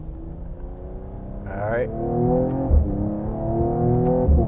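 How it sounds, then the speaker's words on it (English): A Mercedes-AMG CLS 53 in manual Sport Plus mode revs up and burbles through its exhaust after a downshift, rising engine tone with a couple of sharp low cracks, close and loud, while someone speaks briefly. "And the cracks and burbles from the exhaust."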